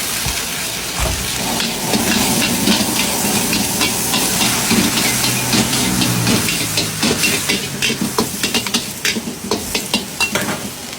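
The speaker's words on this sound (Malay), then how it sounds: "Jom kita goreng dulu." Kicap kuey tiaw and mee goreng noodles sizzle loudly in a hot pan, with a constant frying hiss and rhythmic scraping stirs growing sharper toward the end.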